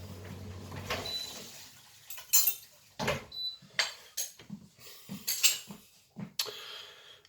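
The back of a metal spoon scrapes and taps as prawn paste is spread across a slice of bread, giving a series of short, close, uneven strokes with quiet pauses between them.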